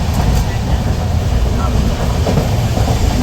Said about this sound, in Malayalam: നമ്മളങ്ങനെ അവസാനം കന്യാകുമാരി എക്സ്പ്രസിൽ കയറിയിരിക്കുകയാണ്.